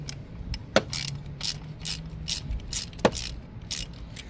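A ratchet with a 10 mm socket loosens lower bolts on a 2019 Volkswagen Tiguan during an ignition coil and spark plug swap, with repeated close ratcheting clicks and two sharper knocks over a faint background hum.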